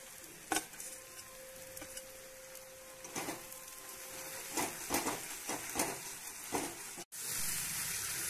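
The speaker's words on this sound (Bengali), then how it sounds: "এবার আমি ভেজে রাখা চিকেনটাকেও দিয়ে দিলাম, দিয়ে আবারও একটু ভালো করে কষে নেব" Fried chicken stir-fried in a pan with onions and spices, a steady sizzle and hiss broken by repeated scraping stirs, close and fairly quiet, with a sudden brief cut near the end.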